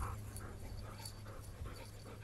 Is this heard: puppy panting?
yes